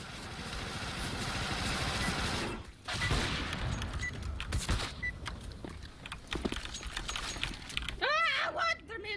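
Rapid video game gunfire bursts and crackles in dense volleys, continuous and loud at first, then in choppier bursts mixed with engine-like rumble, with a person talking over it.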